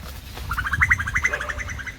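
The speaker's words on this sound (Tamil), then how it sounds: "அந்த குருவி தான் காலையில் கத்துவோம்" A small bird, likely a sparrow, chirps in a rapid run of bright tweets against outdoor market background noise in Kunnathur, fairly close and steady for about a second and a half.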